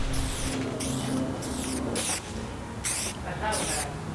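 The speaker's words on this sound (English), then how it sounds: "So we are ready to spray paint the brackets of the shelves." Short hissing bursts of spray paint coat IKEA shelf brackets, about six separate sprays with pauses between them, close and fairly loud over a low background hum.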